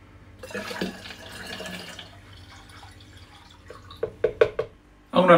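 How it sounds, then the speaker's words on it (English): Sugar water pours into a glass demijohn holding homemade red grape, plum and apple wine. A soft liquid trickle comes first, followed by a few sharp drips and clinks and a louder splash at the end. "And then I'm going to add back in my sugar water."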